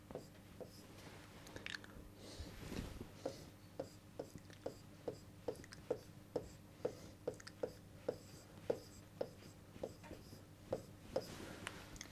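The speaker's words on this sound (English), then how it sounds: "I'll write that down for you." A word is written out by hand during an English class, a quiet, regular series of short scratchy strokes repeating about once a second against low room noise, with no talking.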